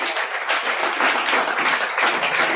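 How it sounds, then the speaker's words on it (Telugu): Students applaud together at a small function, a dense burst of clapping that stays loud and steady for a couple of seconds with no voices over it. "ఇంకొకసారి మన చేతులున్న పిల్లలందరూ గట్టిగా చప్పట్లు పడదాం సార్కి"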